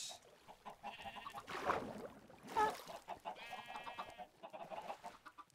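Minecraft chickens cluck repeatedly over several seconds, with short bursts and a couple of louder squawks, moderately loud and with no talking.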